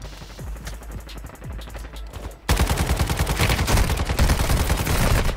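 Rapid automatic gunfire in the mobile shooter Warzone Mobile, a steady stream of closely spaced shots that turns suddenly louder and denser halfway through, with no voices.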